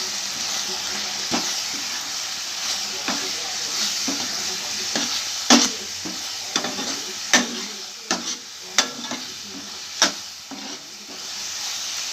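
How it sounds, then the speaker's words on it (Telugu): Coriander powder and garam masala get stirred into a frying pan for a pea and potato kurma, a soft steady sizzle punctuated by sharp, irregular scrapes and knocks of the spoon against the pan. "ధనియా పొడి గరం మసాలా అండి అన్నీ బాగా మిక్స్ చేసుకోవాలా"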